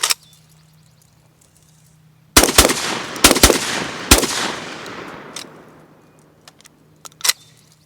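Five Lynx-12 shotgun rounds of 7.5 birdshot fired at a monitor on a wooden target, loud close blasts in a quick irregular burst after a quiet start, each followed by echoing decay, then faint clatter and one late crack.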